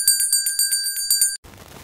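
A bright, metallic bicycle-style bell rings in a rapid burst of about ten even strikes, loud and close as a sound effect. It stops abruptly and leaves faint background noise.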